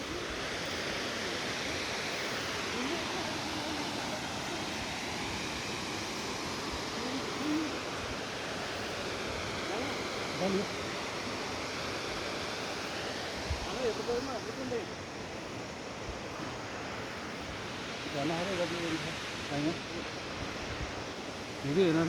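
Tindhare waterfall heard on a hike, a steady broad rushing roar of falling water that fills the whole clip, with faint voices and footsteps mixed in beneath it.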